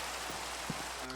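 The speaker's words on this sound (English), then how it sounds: "It's raining." Steady rain falling outdoors, a continuous hiss with a few faint drip-like ticks and a low background hum.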